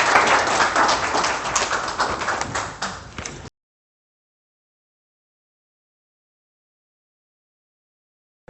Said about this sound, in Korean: 민선식 YBM 회장님 박수로 맞아주시면 감사하겠습니다.